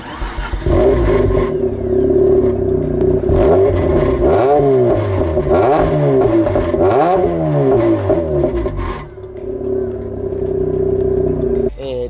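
Tuned Mazda RX-8 rotary engine idling through its exhaust, then blipped in several quick revs that rise and fall before settling back to a steady idle; loud and close.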